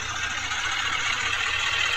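Swaraj tractor engine idling in the Indian Vehicles Simulator 3D game, a steady low mechanical rumble with a constant hum and no change in pitch or loudness.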